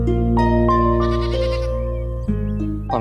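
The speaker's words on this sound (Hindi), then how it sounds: "बकरा लेकर आओ।" A goat being brought to a car bleats in a long, wavering, nasal cry that is loud and close. A second, shorter bleat follows, with no talking over it.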